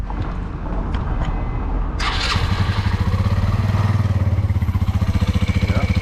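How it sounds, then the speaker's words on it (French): A Mash 125 motorcycle engine starts during an oil change: a quiet stretch, then a sharp start followed by a steady, fast-pulsing idle, close and loud. "Donc là, tu vas démarrer la moto."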